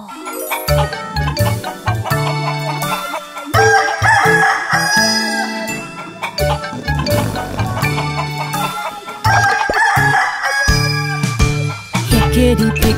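A rooster crows and hens cluck inside a chicken coop in a children's cartoon song, the calls bright and repeated over loud, busy music with little talking.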